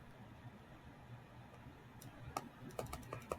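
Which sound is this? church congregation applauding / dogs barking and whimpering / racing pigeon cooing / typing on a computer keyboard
typing on a computer keyboard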